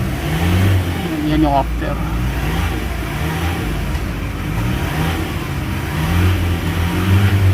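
A Ford Everest Titanium engine revs after a system cleaning, a loud, steady mid-range drone with slight swells in pitch, close by, while someone speaks briefly over it.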